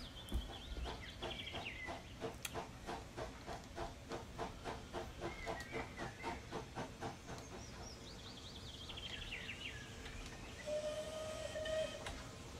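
Steam locomotive, a Southern Railway Merchant Navy Class in Train Simulator 2020, rolling into a station with a steady rhythmic chuff of exhaust beats, hissing steam and squealing brakes as it slows, loud and close with no talking.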